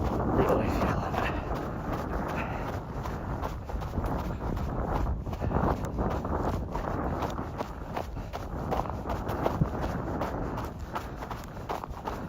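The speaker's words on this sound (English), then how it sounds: "Wow, that wind is blowing super hard." Strong wind on a snowy mountain trail buffets the microphone in a constant roar, with rhythmic footfalls of a runner crunching along underneath throughout.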